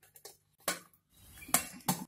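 A pressure cooker lid is fitted and closed, giving a few sharp metallic clinks and a brief scrape, close and quiet.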